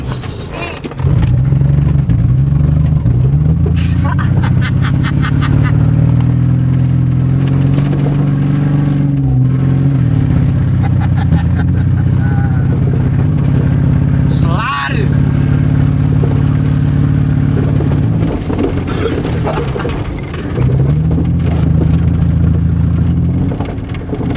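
A beat-up car engine revs and drones steadily for most of the clip, with low pitch shifts as the throttle rises and falls. Voices talk over it and a few clicks and knocks cut through.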